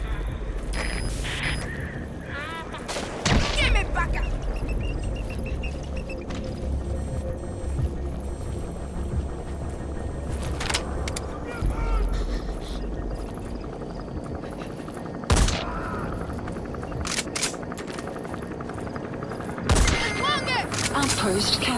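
Gunfire in Metal Gear Solid V: The Phantom Pain, several sharp, loud bursts and blasts scattered among rumbling engine and wind noise, with voices speaking over the action.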